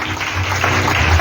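Applause from a church congregation during a sermon on fasting and prayer, a loud, dense burst of clapping heard at close range with a few voices mixed in.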